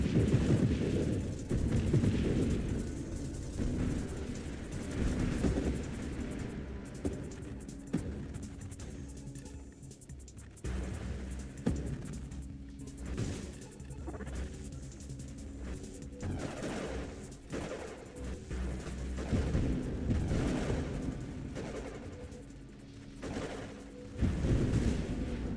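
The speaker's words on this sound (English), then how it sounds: "Another chaotic explosion." Chaotic explosion in a game, a long roaring series of rumbling blasts and crackling bursts that keeps swelling and fading, heavy and booming throughout with no voices.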